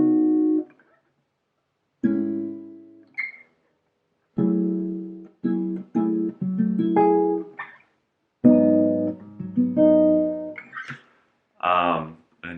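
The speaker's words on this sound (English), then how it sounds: "That's just like a neo soul chord progression there." Guitar plays a neo soul chord progression: a series of rich, ringing chords in separate phrases with short pauses between them. The chords are heard clearly and alone.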